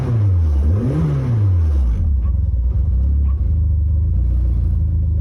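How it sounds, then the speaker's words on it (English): A Mazda Miata engine idles very rich at an air-fuel ratio of about 10, dumping fuel, with a steady low rumble and a brief rise and fall in pitch early on before it settles into an even, close idle. "So currently the car sitting at idle is dumping fuel."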